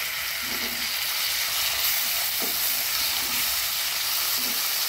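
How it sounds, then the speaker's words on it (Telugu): Masala with turmeric fries in a pan for prawn curry, giving a loud, continuous sizzling hiss with a few soft stirring knocks underneath and no talking. "పసుపు వేసుకొని ఇదంతా చక్కగా కలుపుకొని ఫ్రై చేసుకోవాలండి"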